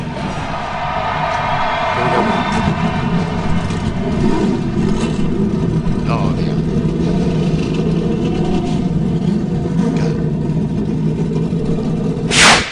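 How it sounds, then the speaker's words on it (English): NASCAR stock car engines at Daytona firing up and revving, a loud sustained mechanical roar with rising and falling pitch from many cars together, filling the whole clip, with a brief shout near the end. "Gentlemen, start your engines."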